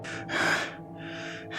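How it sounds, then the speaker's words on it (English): Panting, gasping breaths in a Warhammer 40k audio drama, heard close and alone in three heavy breathy pulses, the middle one loudest. "No answer came, only panting breaths."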